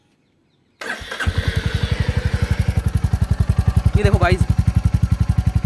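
A Royal Enfield Meteor 350 motorcycle engine cranks and catches, then settles into a loud, steady, rhythmic idle close by, while someone speaks briefly over it.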